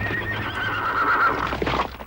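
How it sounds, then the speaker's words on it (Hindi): Cartoon horses whinny loudly with a long, high neigh while hooves clip-clop steadily underneath, close and continuous for about two seconds with no talking. "घोड़े।"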